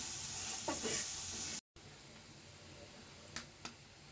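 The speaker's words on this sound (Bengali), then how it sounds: "এই গাজরটা আমি 3 থেকে 4 মিনিট ভেজে নেবো।" Carrots fry in a pan for noodles with a faint, steady hiss that cuts out briefly, joined by a few light clicks near the end.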